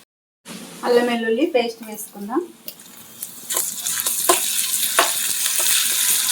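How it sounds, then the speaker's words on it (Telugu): Ginger garlic paste sizzles in a pan for mutton tilli fry, with a voice speaking at the start, then a building crackling fry and stirring scrapes as it continues. "కొంచెం అల్లం వెల్లుల్లి పేస్ట్ వేసుకుందాం."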